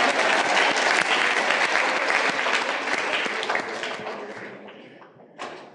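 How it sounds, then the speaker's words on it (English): A lecture-hall audience gives a round of applause, dense steady clapping that fills the room and then thins and fades toward the end, with a brief late burst of claps. "Let's give them a round of applause anyway"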